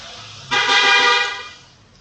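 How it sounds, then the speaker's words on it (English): One car horn beep, a sudden bright tone that holds for about a second and then fades, heard from a short distance. "that definitely sounded like someone was beeping their horn"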